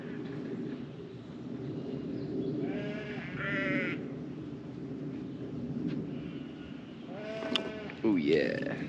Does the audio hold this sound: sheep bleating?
yes